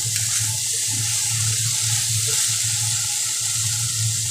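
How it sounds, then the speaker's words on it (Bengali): Steady, loud sizzling of food frying in hot oil, continuous and close, with a faint low hum underneath and no talking. "ভালো করে মা সবজিটাকে ভাজা করে"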